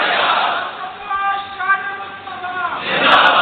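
A crowd at a Jang-e-Badr religious gathering chanting a slogan in unison: a swelling massed chorus of voices in the middle, framed by louder rushes of crowd noise at the start and end.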